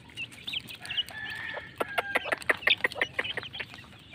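Chickens and young chicks clucking and chirping at feeding time, a busy overlapping flock with repeated short clucks and chirps growing denser and louder, close by with no talk.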